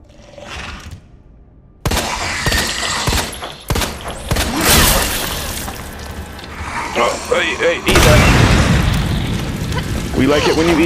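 Pistol shots and booming impacts in Resident Evil 2 (2019) crash through a noisy fight, loud bursts landing irregularly amid rumbling chaos while someone talks and exclaims over the action.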